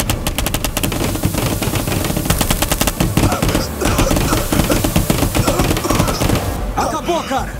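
Paintball guns fire in dense rapid bursts during a tense police standoff, loud staccato volleys layered over music and shouting voices before the shots thin out.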